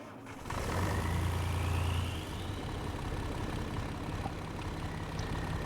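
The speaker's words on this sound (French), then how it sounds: "On va prendre le camion." Truck engine idling in Farming Simulator 25, a low steady rumble that swells briefly near the start then settles into a quieter even drone, with a faint whine sliding upward in the background.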